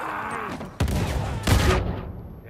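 Gunshots in Uncharted 4 multiplayer on a beach map, sounding as two loud, close sustained bursts of fire with game noise in between, then a fading tail.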